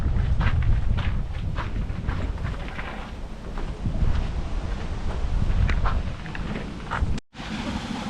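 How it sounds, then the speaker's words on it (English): Strong wind buffets the microphone on an open lookout above Stockholm, a continuous heavy low rumble with gusting swells that cuts out for a moment near the end before returning. "It's windy, as you can tell."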